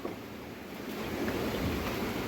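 Heavy rain pours down outdoors with a dense, continuous roaring wash that swells slightly toward the end, with no voices.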